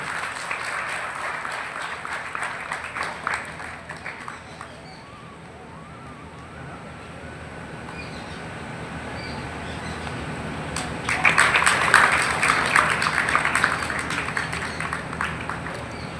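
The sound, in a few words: audience applause at award ceremony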